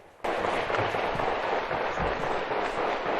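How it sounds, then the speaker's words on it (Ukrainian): A dense crackle of distant gunfire and artillery shelling in eastern Ukraine rolls on steadily, with dull booms and a few heavier thuds standing out. "А потім знову постріли і знову артобстріли"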